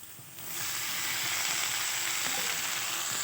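Vegetables and pasta fry in a pan; a quieter start swells after half a second into a loud, even, hissing sizzle that holds to the end.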